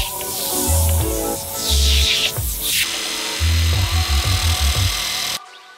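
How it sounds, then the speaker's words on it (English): A wire wheel on a power tool scours rust from a Toyota Tacoma rear drum brake, giving a close, loud whirring grind that surges and drops as it bears on the metal, then cuts off abruptly. "I'm attacking the rust with my wire wheel"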